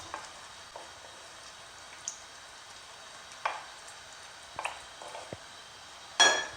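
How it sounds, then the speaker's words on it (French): Browned meat in a tajine stirred after a glass of water is poured in, soft scattered scrapes and clinks of a utensil against the pot over a quiet background, ending in a louder knock. "Je vais arroser avec l'équivalent d'un grand verre d'eau. Je mélange."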